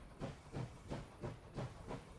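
A steam train pulls away in the strategy video game Last Train Home, with rhythmic chuffing bursts of steam repeating about every third of a second, steady and close.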